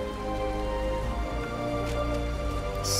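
Steady rainfall in the video game Final Fantasy XIV, a continuous dense patter of drops on surfaces under soft ambient in-game music tones, constant level throughout with no talking.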